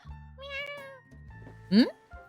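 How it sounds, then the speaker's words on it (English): A cat meows twice in a video game scene, a drawn-out mid-pitched meow followed by a short, sharper, louder one, clear and close against a quiet room. "A cat's meow makes her jump from the bed."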